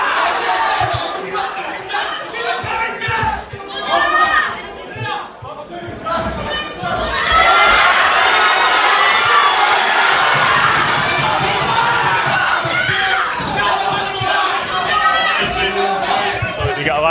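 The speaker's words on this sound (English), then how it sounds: "So you get a lively home crowd in here tonight." A lively home crowd at a boxing club show cheers and shouts, building from scattered yells into a loud, sustained roar of voices with excited whoops, with a commentator talking over it.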